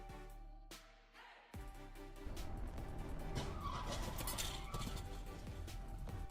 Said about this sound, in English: Continuous accidents occur as vehicles skid due to sudden braking.